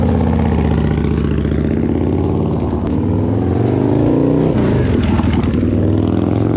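A Harley-Davidson Softail V-twin revs up and down close by, a loud throaty engine note with rising and falling pitch and a rough, lumpy idle beneath it.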